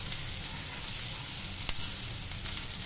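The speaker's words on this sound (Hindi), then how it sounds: "1-2 मिनट भूनते हुए हो गया है, बहुत अच्छे से ये मिक्स हो गया है" Finely chopped beetroot being stirred and sautéed in a pan for a paratha filling, giving a steady, soft sizzle with low scraping stir noises and a couple of brief clinks, no voices.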